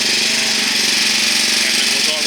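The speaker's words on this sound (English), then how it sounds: "So we'll go ahead and start the engine here." The engine on an Evergreen Watermaster hydraulic water reel gun runs loud and close with a dense, rapid mechanical chatter, holding steady throughout without any clear start-up surge.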